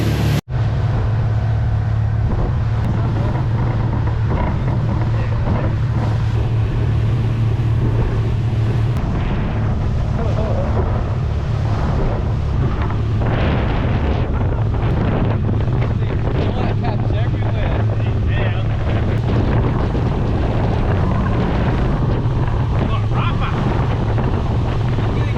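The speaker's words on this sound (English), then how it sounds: "it's blowing a gale at the moment" A strong gale on a lake buffets the microphone from a boat, a continuous loud roar with gusty rushes layered over a steady low hum.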